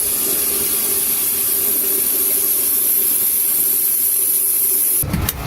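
A can of zinc primer sprays onto rust on a van in one long, steady, close hiss that lasts about five seconds, then cuts off, followed by a brief rattle.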